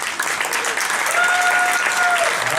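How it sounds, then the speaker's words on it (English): Audience clapping for first-time attendees at an evening gathering, a dense, loud sustained round of applause with a faint whistle or cheer threaded through it. "would you please stand up so we can give you a round of applause for braving it to come here tonight?"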